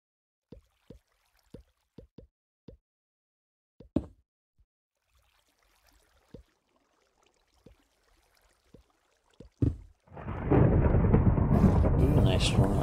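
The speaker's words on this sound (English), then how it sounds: "Been a lot of thunderstorms since this update." A Minecraft thunderstorm rolls in: after a series of quiet knocks and clicks, a loud close thunderclap erupts into a sustained crackling roar of thunder and rain that continues to the end.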